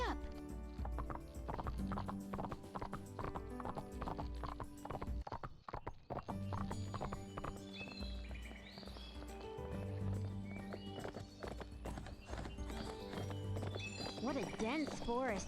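A horse gallops in Barbie Horse Adventures: Wild Horse Rescue on Xbox, with rapid, continuous clip-clop hoofbeats and occasional whinnies under game music and someone talking.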